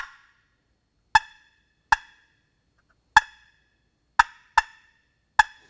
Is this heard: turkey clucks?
yes